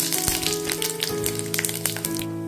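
Whole cumin seeds, a bay leaf, a dried red chilli, a cinnamon stick and a cardamom pod sizzle in hot mustard oil, a dense steady crackle with sharp pops scattered across it, close and fairly loud.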